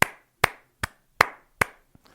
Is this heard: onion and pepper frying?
no